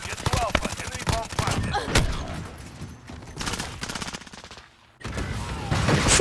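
Rapid bursts of automatic gunfire and sharp single shots ring out in a Call of Duty: Modern Warfare multiplayer match, loud and close, with a short quiet gap before the firing resumes.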